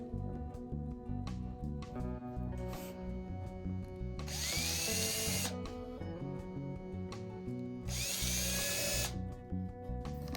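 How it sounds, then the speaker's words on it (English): A power drill bores hinge holes in a wooden jewelry box, with two bursts of whirring drilling among quieter workshop handling sounds. "the next thing to do is mark and drill out the holes."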